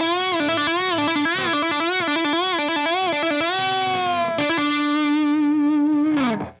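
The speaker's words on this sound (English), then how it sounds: "it was a bend followed by a little bit of a trill to a bend right away" Distorted electric guitar plays a lick, a run of bends and a quick trill, loud and unbroken with wavering pitch, ending on a long held bent note that drops away at the close.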